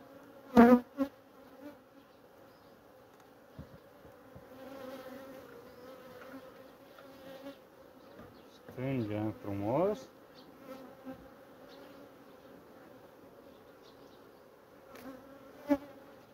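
Agitated honeybees buzz around a hive during a treatment, a faint, steady drone with individual bees zipping loudly past close by now and then.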